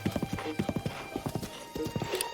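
Horse hooves clip-clop in a steady, quick rhythm from a horse ridden across open ground in Zelda: Breath of the Wild, close and clear, with a brief whinny-like tone mixed in.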